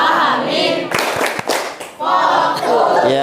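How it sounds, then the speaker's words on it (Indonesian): A class of children claps a short rhythmic focus clap, a burst of several sharp, loud claps in a pattern, between stretches of the children chanting together. "Ya, coba tepuk fokus."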